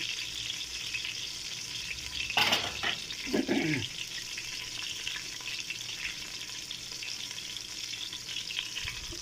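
Onions fry in a pan for an aloo baingan curry with a steady hiss. A sharp burst and some stirring come partway through.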